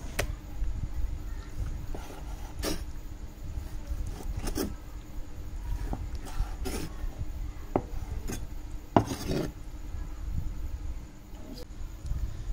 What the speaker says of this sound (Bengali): পিৎজায় দেওয়ার জন্য এখানে আমি 1 পিস বোনলেস চিকেন নিয়েছি, সেটিকে টুকরো টুকরো করে কেটে নিতে হবে।